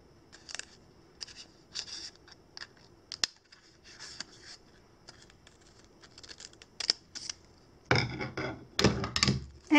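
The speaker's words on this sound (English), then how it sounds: "fold it in half, and just cut out another rectangular shape right in the center" Scissors snipping a small rectangle out of folded paper, a series of short crisp cuts in irregular clusters, followed by louder rustling and handling of the paper at the end.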